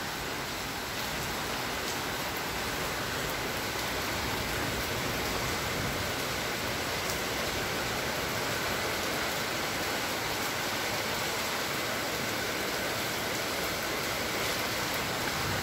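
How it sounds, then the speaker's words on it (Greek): Heavy rain pours steadily during a strong storm in Athens, a dense, continuous roar of falling water with no breaks and no talking. "για να τη δούμε την βροχή να πέφτει"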